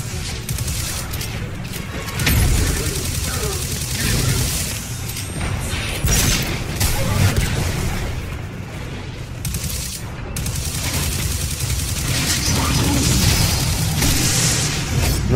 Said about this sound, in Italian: i cannoni dell'astronave che continuano ad attaccare